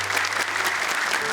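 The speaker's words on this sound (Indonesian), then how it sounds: "tepuk tangan dong untuk Kak Salma" A studio audience on a televised Quran memorization contest bursts into a short, dense round of clapping for Kak Salma, a brief steady burst with a faint low hum beneath.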